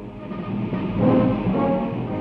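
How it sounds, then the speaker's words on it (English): Packed troop trains rolling eastward at about 19 miles an hour in 1914, giving a steady rumbling roll of wheels on rails with faint rhythmic clatter throughout. "At fixed intervals, the packed trains rolled eastwards, speed 19 miles an hour."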